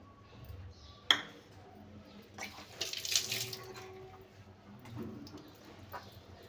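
Tamarind water splashing briefly from a vessel into a bowl of batter mixture, a soft close pour after a light clink, with faint kitchen background.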